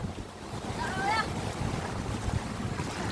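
Big waves slap and wash against a boat at sea amid heavy wind buffeting the microphone, a continuous rough roar with surges of water, while a faint voice is briefly heard in the background.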